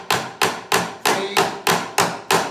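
Plastic drum buckets are struck hard in a loud performance, eight sharp, evenly spaced hits in a steady rhythm, each with a short ringing decay, no voices.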